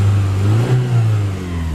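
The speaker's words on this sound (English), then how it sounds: "See, the motor runs great." The 2.2-litre engine of a 1992 Toyota Celica GT with a five-speed manual revs briefly twice over a steady idle, close by and fairly loud, with no one speaking.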